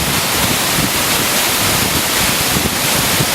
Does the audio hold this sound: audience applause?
no